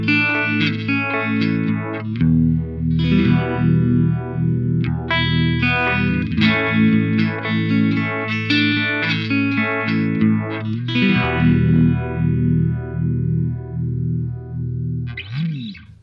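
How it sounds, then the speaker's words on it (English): Electric guitar played through an EHX Goodvibes univibe pedal, chords and riffs with a throbbing, swirling modulation and some grit, sustained and loud for about fifteen seconds before a brief pause and a new strum at the end. "So starting off on the Goodvibes, that sounds something like this."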